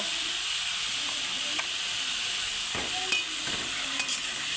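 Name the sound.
ridge gourd frying in hot oil in a wok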